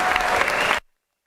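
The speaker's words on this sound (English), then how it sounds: "Let's give them a big round of applause." A short burst of applause for the pages in a state legislative chamber, steady clapping that cuts off sharply after under a second, followed by silence.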